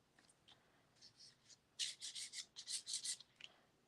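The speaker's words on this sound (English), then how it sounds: "So instead of scribbling it, let's scrape it, shall we?" Paint being scraped across a gelli printing plate, a run of quick rasping strokes in two bursts, close and fairly loud, with fainter scratches before and after.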